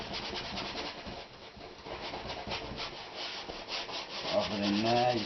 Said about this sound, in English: Scrub it.